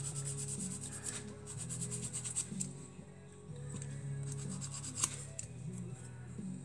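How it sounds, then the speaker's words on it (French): A nail file rubs steadily against a small burr on a model glider, a close, continuous scraping rasp that runs throughout with a brief dip in the middle, no talk. "J'ai sorti la lime à ongles aussi"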